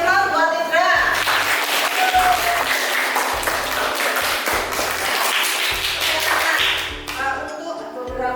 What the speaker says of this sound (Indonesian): Kasih aplaus buat Indra.